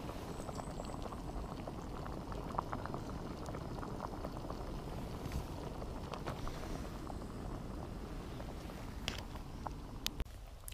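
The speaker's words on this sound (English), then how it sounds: "I've got my Chinese rice starting to boil" Chinese rice boils in a small pot on a camp stove outdoors during a winter canal camp, a steady dense bubbling with occasional faint clicks, close and even throughout.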